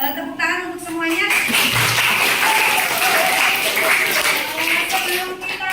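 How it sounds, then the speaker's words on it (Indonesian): A classroom of children breaks into applause, dense clapping that swells after a moment and holds steady at close range, with voices audible before and around it. "Tepuk tangan untuk semuanya."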